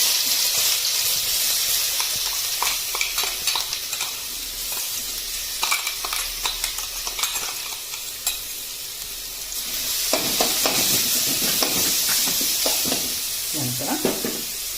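A coarsely ground cauliflower mixture hitting hot pure peanut oil in a pan, a loud continuous sizzle and crackle with stirring scrapes, surging again partway through, heard close with no talk.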